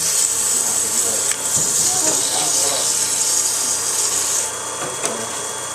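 Steady hissing abrasion of fine sandpaper against a wooden Christmas tree ornament spinning on a wood lathe, with the motor's hum underneath and a speaker's voice faintly in the background.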